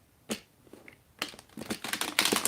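Tarot cards being shuffled by hand, a single crisp riffle near the start, then a dense run of rapid papery flicks and snaps growing louder toward the end, close and with no talking.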